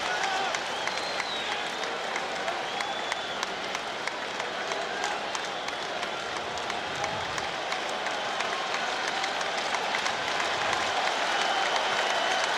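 Boston Red Sox fans at Fenway Park in a July 2003 game against the Yankees, a steady roar of crowd noise and clapping building toward a strikeout, with a broadcaster's voice under the din.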